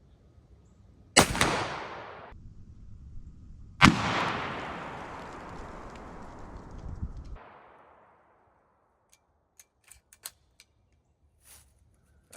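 Two loud shotgun blasts of 3-inch rifled slugs fired with iron sights at a 50-yard target, each a sharp crack followed by a long rolling outdoor echo, then faint scattered clicks and handling noises.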